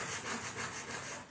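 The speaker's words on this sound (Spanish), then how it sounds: "Y ahora voy a lijar un poquito el círculo central" Sandpaper rubbing back and forth on the central wooden circle of a clock face, a close, rhythmic scratchy swish repeating roughly every quarter second.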